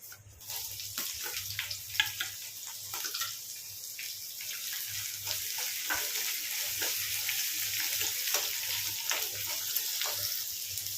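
Chopped onion pieces sizzle steadily in hot oil in a pan for an aloo masala curry, a continuous close frying hiss with occasional stirring scrapes and no talking.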